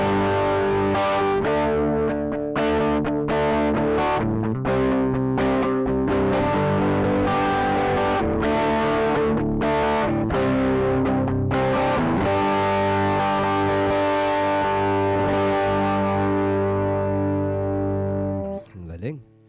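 Electric guitar played through a Joyo Baatsin overdrive pedal with the gain turned all the way up, thick distorted chords and sustained notes ringing continuously and loudly, cut off sharply at the very end.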